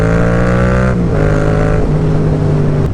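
A Yamaha FZ-07 motorcycle engine revs during drop-back wheelies, a loud close throaty drone whose pitch climbs and steps down between gear or throttle changes over a few seconds, with no talking.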